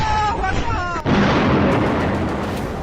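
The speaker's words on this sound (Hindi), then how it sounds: "मिसाइल मोर्टार हमलों से कांप उठा पाकिस्तान।" A voice speaks briefly before a missile and mortar attack erupts into a loud, sustained, rumbling explosion that fills the rest of the clip.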